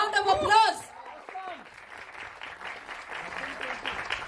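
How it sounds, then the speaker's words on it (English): An audience at a short film preview breaks into a sustained round of applause for the lead actor coming on stage, a dense, steady patter following a loud voice over the announcement. "Huge round of applause"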